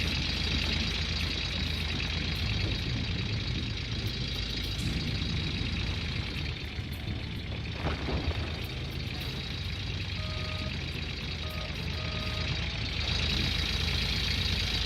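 Steady low idling rumble of a heavy tractor engine in Gold Rush: The Game, a constant loud drone with faint mechanical clatter, running alone without any voices throughout.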